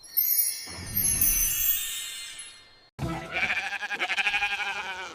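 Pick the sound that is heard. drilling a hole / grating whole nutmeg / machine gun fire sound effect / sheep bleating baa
sheep bleating baa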